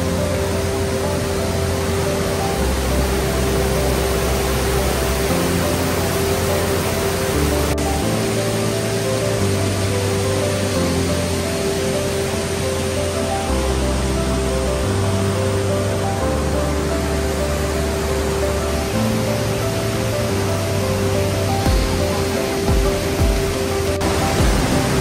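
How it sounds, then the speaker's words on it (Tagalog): Steady broadband rush of a waterfall near Cat Cat village in Sapa, Vietnam, continuous and fairly loud throughout with no pauses, like falling water close by. "Naririnig nyo ba mga kabiyahe yung tunog ng tubig?"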